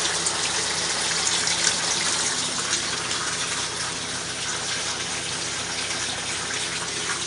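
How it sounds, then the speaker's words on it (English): Steady rushing water runs continuously through an outdoor aquaponics system, with a broadband gushing flow close by and no voices. "Moving water."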